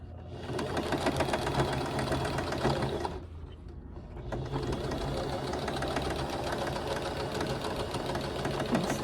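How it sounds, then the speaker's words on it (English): A sewing machine runs in a fast steady rattle while stitching quilt seams from scrap fabric, stopping for about a second midway before resuming at full speed, close and loud throughout. "Then I'm going to sew till I get to the seam I've got in my hand."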